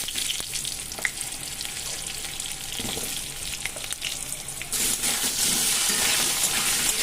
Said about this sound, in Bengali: এবার আমি ওই তেলের মধ্যেই দিয়ে দেবো কেটে রাখা আলুগুলো।